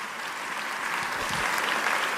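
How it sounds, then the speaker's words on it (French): A church congregation applauds together during a French-language sermon, a sustained wash of clapping at moderate loudness that holds evenly across the moment. "Acclamons le Seigneur."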